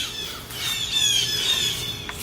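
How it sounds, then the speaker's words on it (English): Birds squawk outdoors in shrill, repeated calls that swell and fade at moderate distance over a quiet background. "the birds will cheer you on while you do it"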